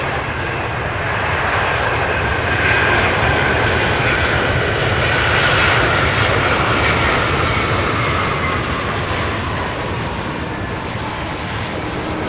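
An MD-11 jet lands at Louisville International Airport. Its engines give a sustained, loud roar that swells slightly and then eases as the aircraft passes, with no voices over it.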